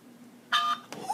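A single telephone keypad tone sounds as 1 is pressed in an automated phone menu, a short clear beep over quiet room hiss, followed by a brief muffled noise.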